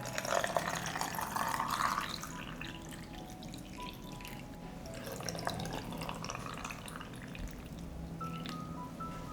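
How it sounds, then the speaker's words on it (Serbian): Water poured into a glass jar packed with fresh strawberries, a steady splashing and trickling stream running for several seconds, close and moderately loud, with drips toward the end. "Vodu sipam u teglu da prekrije jagode."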